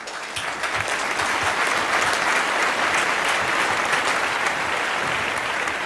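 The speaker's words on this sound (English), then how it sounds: "Big round of applause" Audience at an awards ceremony breaking into sustained, dense applause, many hands clapping steadily at even loudness throughout, with no voices above it.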